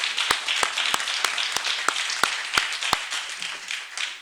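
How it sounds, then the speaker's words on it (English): A round of applause at a county freeholder meeting, a modest group clapping in a fairly quick, even rhythm, with a few loud, close claps standing out above the rest. "I think that deserves a round of applause."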